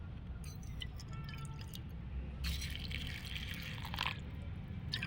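Water is poured into a container holding carrots, a quiet, steady trickle that swells briefly into a fuller splashing stream before easing off.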